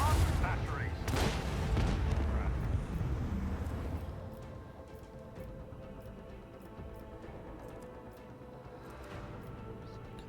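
Ship gun batteries firing in Rogue Trader, heavy booming volleys that fill the first few seconds and then fade into a quieter rumble with scattered distant blasts, with voices speaking at times.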